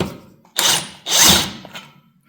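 Two short bursts from a power drill boring out a small fastener on a John Deere 830 industrial radiator during an overhaul, close and loud, followed by a fainter trailing whir as the bit spins down.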